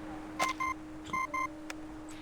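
A communicator gives two short pairs of bright electronic beeps, each pair a quick double chirp, fairly close and clear over a faint steady hum, with soft clicks around them.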